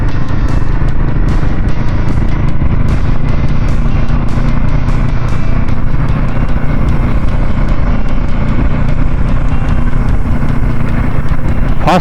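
A Royal Enfield Himalayan motorcycle rides along a mountain road. Its loud engine drone runs continuously for twelve seconds, mixed with steady wind rush and occasional rhythmic thumps.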